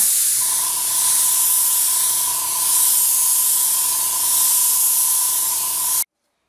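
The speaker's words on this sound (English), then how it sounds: "And you notice I'm holding my airbrush the same distance from it the whole time." An airbrush sprays red colour onto a fondant flag for a cake, giving a loud, even, continuous hiss with a faint steady compressor hum underneath that cuts off abruptly at the end.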